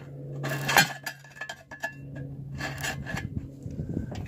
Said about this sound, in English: Take a screwdriver and just scrape the silicone off right there.